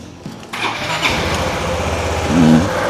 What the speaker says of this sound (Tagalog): Ngayon po ay painitin ko lang yung aking motor.